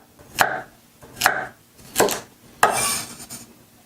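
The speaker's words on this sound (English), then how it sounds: "I cut the carrot into 4 pieces like this. And now I'll cut it into small cubes like this." A knife chops a carrot into small cubes on a board, landing four sharp, evenly spaced strikes close to the mic, each with a short crisp ring.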